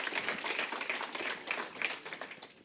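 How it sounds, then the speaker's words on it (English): Applause rises from an audience at an opening welcome session, dense overlapping claps from many people, moderately loud and steady, tapering slightly toward the end. "Give a round of applause to them."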